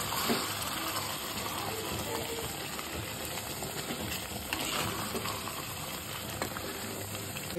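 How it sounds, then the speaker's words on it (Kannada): Water is poured into a pot of mutton curry with grated coconut and stirred in, giving a steady, close gushing wash that runs unbroken for several seconds with no talk. "ಒಂದು 2-3 ಲೋಟದಷ್ಟು ನೀರು ಹಾಕ್ಬಿಟ್ಟು ಚೆನ್ನಾಗಿ ಮಿಕ್ಸ್ ಮಾಡಿ ಮುಚ್ಚಿಡಬೇಕು."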